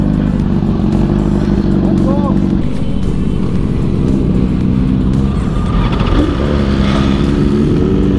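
A BMW S1000RR sportbike rides along with a loud, close engine roar whose pitch climbs and drops as it shifts through the gears, with wind noise throughout.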